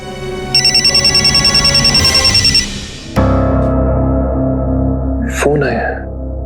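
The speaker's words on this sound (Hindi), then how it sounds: "फोन आया। हाँ, फोन आया है।" A telephone rings indoors at night with a loud, rapid, repeated electronic trill for about two seconds. A lower tone follows, then a brief gasp-like vocal sound.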